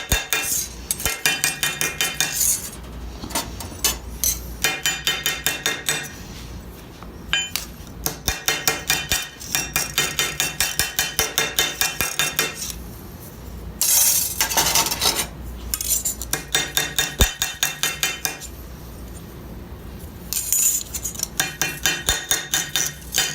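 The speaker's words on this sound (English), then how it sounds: "what I do is I flatten them out before I start grinding them" A hammer strikes cut metal sabaton armor pieces to flatten them, ringing in rapid bursts of sharp metallic clanks separated by short pauses, close and fairly loud with no talking.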